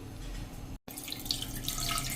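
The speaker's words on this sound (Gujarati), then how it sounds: "કુકરમાં આપણે 2 કપ જેવું પાણી નાખી દેશું" About two cups of water pour into a pressure cooker on a gas stove in a home kitchen, ahead of boiling potatoes. The close, steady splashing pour breaks off for an instant and then resumes, with no talking.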